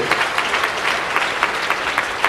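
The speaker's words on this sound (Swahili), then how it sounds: "Let's give them a God bless you hand clap." An audience at a prayer summit claps together in a dense, even burst of hand clapping that holds steady and loud from start to finish.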